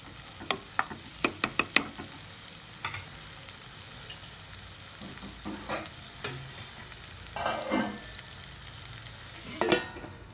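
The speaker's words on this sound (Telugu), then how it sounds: "ఉల్లిపాయలు అయితే వేసుకున్నాను కదండి, ఒక 5 నిమిషాల పాటు చక్కగా మగ్గిపోవాలండి" Onions frying in a pan, with scattered sharp clinks of a spoon stirring against the vessel and a faint sizzle underneath, heard alone and fairly quiet.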